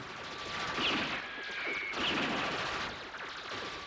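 Gunfire in an animated series battle, a dense, continuous wash of rapid shots and explosive rumble swelling twice, loud and unbroken, with a faint whistle riding above it.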